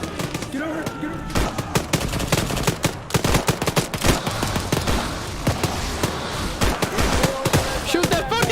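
Dense, rapid gunfire in the video game Arma: bursts of machine-gun fire and sharp single shots cracking close and loud almost without pause, with voices shouting intermittently underneath.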